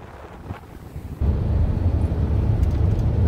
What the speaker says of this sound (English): but it was very windy